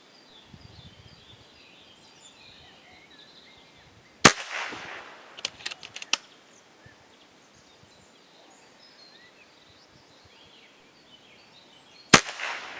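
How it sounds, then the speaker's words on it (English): A Kral Arms Puncher Mega air gun fires two sharp, loud cracks several seconds apart, with a few lighter clicks and taps between them, in an otherwise quiet outdoor setting with faint birdsong. "Before I started to shoot, I charged the gun to about 185 bars."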